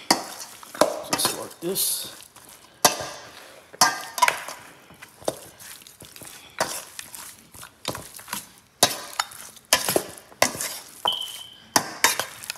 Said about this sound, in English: Mix it very well, make sure that all pieces are evenly coated.